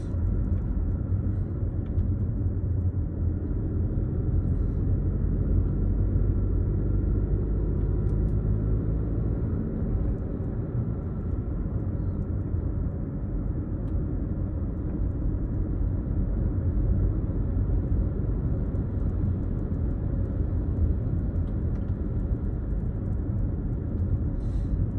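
Steady, loud low rumble of a car driving along a quiet mountain road near Evergreen, with continuous road and engine noise and no pauses, voices or distinct events throughout.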